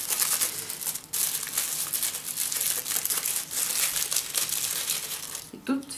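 Wrapping paper around a small gift bag crinkles and rustles continuously up close, dense crackling handling noise with a brief pause, while someone talks over it.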